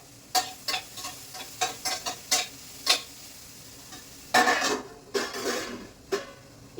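Ivy gourd with chili powder being stirred in a pan, a series of sharp spoon scrapes and clacks against the pan in an irregular rhythm over a faint sizzle, close and without talk.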